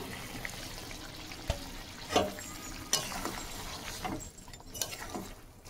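Fish pieces go into a simmering gravy, bringing a soft bubbling and low sizzle with a few sharp splashes and clatters of the pieces landing and being stirred, fairly quiet and without talk.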